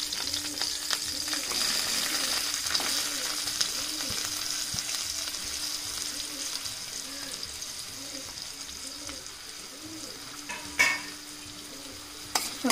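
Tomato, onion and neem leaves frying in a pan, a steady close sizzle with soft rhythmic stirring scrapes and an occasional clink of utensils.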